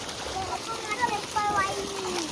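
Feet wade and splash through muddy paddy field water in a few soft, close sloshes, while children's voices chatter over the wet steps.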